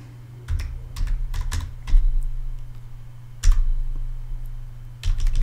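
Someone types a search on a computer keyboard in short, quick bursts of clicky keystrokes, close and clear over a steady low electrical hum.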